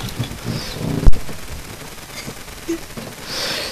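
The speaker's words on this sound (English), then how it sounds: "Let's get a little look at how these cannons fire." Japanese artillery booms in the distance in the game Total War: Shogun 2, a few scattered cannon shots with one sharp, loud blast standing out over a low rumbling battlefield din.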